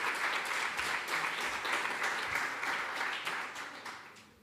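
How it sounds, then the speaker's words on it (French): Audience applause welcoming a witness at a mock tribunal event, a dense patter of many hands clapping that holds steady and then fades out toward the end. "Merci de l'applaudir."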